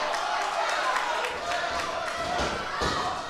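Wrestling crowd at an NWA event cheering and clapping in a steady, dense roar, with a few louder thumps near the end.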